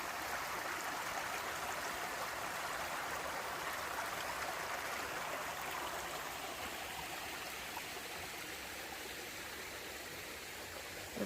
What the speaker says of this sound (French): Le voilà, le petit ruisseau.